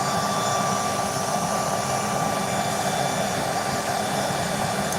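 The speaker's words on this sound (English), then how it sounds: "I'm using the Atlas Plus forge running" An Atlas Plus forge roars steadily with a broad, even gas-burner rush, constant and loud throughout without pauses, and no voices over it.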